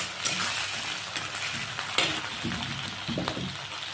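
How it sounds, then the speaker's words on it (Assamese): Ginger garlic paste fries in hot oil alongside onions for a chicken curry, a steady soft sizzle with occasional scrapes and clinks of a spoon stirring the pan, close and fairly quiet. "এতিয়া আদা নহৰুখিনিও ভাজি আছোঁ।"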